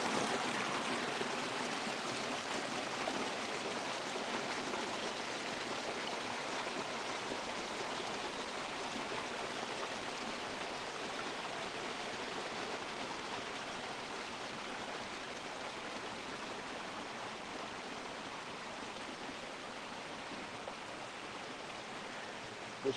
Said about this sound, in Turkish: Bu şırıltı bile ayrı bir güzellik ya,